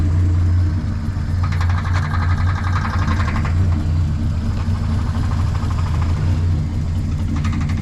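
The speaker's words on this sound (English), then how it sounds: "So it's idling right here" A long-dormant Triumph TR250 pulled from a junkyard after 40 years idles steadily nearby, a low, even engine drone with a faint rhythmic ticking throughout and no talk.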